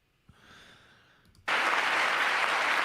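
Sudden burst of loud, sustained applause from a large audience at the State of the Union address, erupting after a quieter stretch of room noise and continuing steadily to the end.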